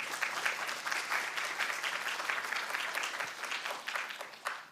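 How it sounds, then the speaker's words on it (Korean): Audience applause greeting a professor stepping up to the microphone at a lecture event, a steady wash of many hands clapping throughout with scattered sharper claps toward the end. "박수 부탁드립니다."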